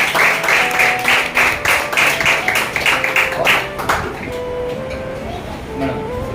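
A room of people at a basic training session claps in rhythmic bursts, loud and close, before the applause fades into quieter background sound.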